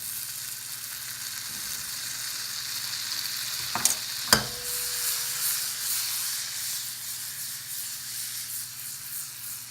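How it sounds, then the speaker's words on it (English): Minced garlic sizzles in butter in a pan for a butter wine sauce, a steady close hiss and crackle throughout, broken by a couple of quick utensil clinks partway through. "We have all that sizzle really like adding up."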